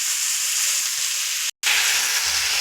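Potato, eggplant and drumstick curry sizzling and frying in a pan as it is sautéed, a loud close hiss running steadily with one momentary break near the end.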